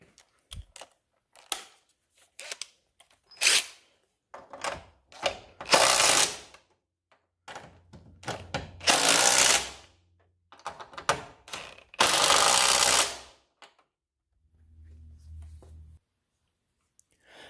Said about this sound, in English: I'm just going to snug them up with my impact, and then I'll go back and finish them by hand.